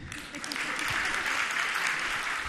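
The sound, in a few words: audience clapping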